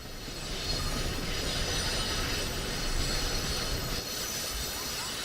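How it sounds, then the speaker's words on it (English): An MBTA commuter train on a Boston-bound service in a train simulator game, rolling with a continuous loud rumble and high metallic wheel squeal, alone without talk. "Simulator guy is driving a Boston-bound service on MBTA Commuter."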